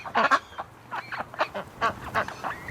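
Muscovy ducks outdoors in winter cold let out a series of short, breathy honks and hisses, several in a row with brief pauses, fairly near over faint background noise.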